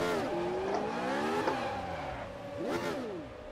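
A race car in the Automobilista Formula Retro sim spins out, its engine revving and falling in pitch with quick shifts, tire squeal and skidding over a steady engine drone at moderate volume.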